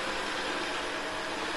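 A Samsung NaviBot Silencio robot vacuum cleaner runs with a steady, even whirring hiss that holds at one level from start to finish, with no voices.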